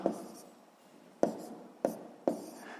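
A pen writes a sixth-grade math exercise solution on paper, with four sharp taps of the pen tip each followed by a soft scratching stroke, close and quiet.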